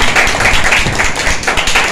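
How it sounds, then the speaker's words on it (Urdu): A church congregation at a Friday healing meeting claps loudly and continuously, a dense, close patter of many hands with no speech. "زوردار تالیاں گئے خدا کے بندہ کے نام سے"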